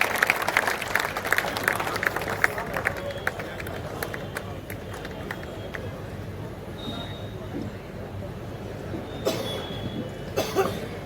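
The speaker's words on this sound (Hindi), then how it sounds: "आप सबकी जोरदार तालियां भाई शंभू को आमंत्रण दे" An audience at an all-India kavi sammelan poetry gathering claps to welcome poet Shambhu Shikhar, loud, brisk applause at first that thins into scattered claps with crowd murmur, a cough and a few shuffling noises.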